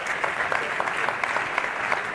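An audience claps warmly for panelists at a European political gathering in Italy: dense, even applause from a crowd, sustained throughout without voices.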